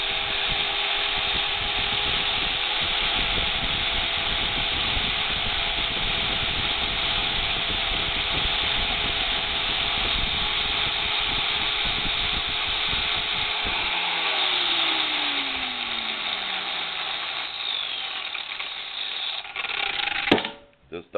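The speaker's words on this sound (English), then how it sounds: "I'm going to go ahead and grind that off too." An angle grinder fitted with a sanding flap disc grinds the mashed-over edge of a steel center punch, a loud steady high whine running continuously before winding down near the end.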